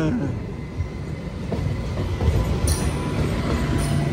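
A new MEMU train rolls past at Cherlapalli station with a steady broad rumble and faint wheel clatter, loud and close throughout.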